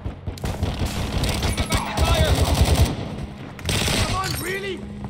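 Dense, rapid automatic gunfire and explosions in Call of Duty: Modern Warfare II (2022) Kill Confirmed multiplayer on the DRC map, loud sustained bursts with voiced game callouts mixed in.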